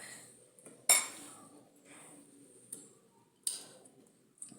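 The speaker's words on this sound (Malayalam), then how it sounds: "ഇനി നമുക്കിത് ശരിക്കും ഒന്ന് ഇളക്കിയിട്ട് ഉപ്പ് നോക്കണ്ടേ" A spoon stirs a beetroot dish in a metal pot, giving sharp scattered clinks and scrapes against the sides with quiet gaps between strokes, fairly close and alone.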